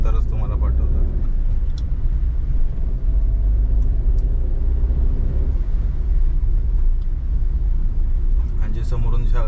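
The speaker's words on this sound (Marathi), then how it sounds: "जे समोरून जेवढ्या पण गाड्या येत आहेत" Cars pass on a road near a temple, a constant loud low rumble of traffic close by, with a person talking over it throughout.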